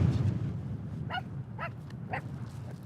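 Three short, high yips from a small puppy, spaced about half a second apart, over a low rumble of wind.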